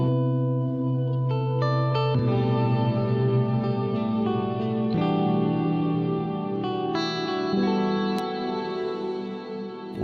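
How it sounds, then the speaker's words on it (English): Sustained synth-like chords wash together under a long, lingering 60,000-millisecond reverb tail from the epicClouds plugin by Variety of Sound, the notes blurring and ringing out as each new chord enters. "Awesome reverb."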